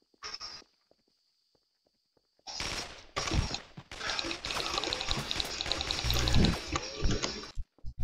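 Rapid burst fire from an assault rifle in the game Action Source, loud and dense, firing in a long run after a brief short burst and a pause, with footstep-like clatter mixed in.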